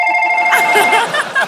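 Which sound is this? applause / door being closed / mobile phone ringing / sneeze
mobile phone ringing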